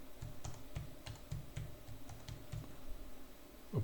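Fingers type a contract start date on a computer keyboard, a quick run of soft, evenly spaced key clicks close by, with no voices.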